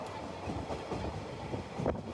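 A moving passenger train, a ladies special commuter service, heard from inside as a low, steady rumble with soft rhythmic wheel knocks throughout, fairly quiet.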